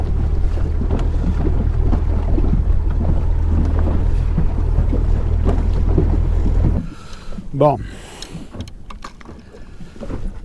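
Strong wind buffets the microphone aboard a fishing boat off Corsica, a steady low roar that drops away partway through, leaving choppy water and a brief voice.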